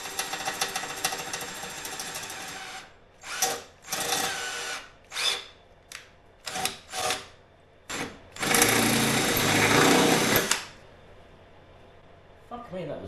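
A power drill boring a pilot hole for a Spanish turning mudguard on a Series 1, running in several short whining bursts and then one longer, louder run, with a person talking quietly between the bursts.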